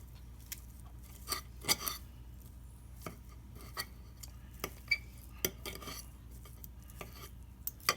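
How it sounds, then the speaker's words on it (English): Roast beef being pulled apart and shredded for Michigan pasty filling, heard as faint, scattered utensil clicks and scrapes against a plate, with a few sharper taps, no talking. "our roast is all nice and shredded and ready to go in with the rest of the filling"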